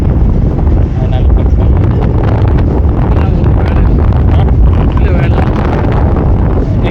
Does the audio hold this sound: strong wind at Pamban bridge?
yes